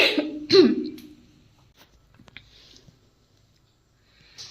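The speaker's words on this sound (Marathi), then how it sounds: "खोकला खूप येतोय मला" A loud, harsh cough bursts out at the start, followed by a quiet pause with faint rustles, then a soft short sound near the end.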